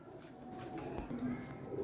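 Kasuri pigeon, a red-eyed golden breed, cooing softly in a low, steady murmur over faint background noise and indistinct voices, lasting a couple of seconds.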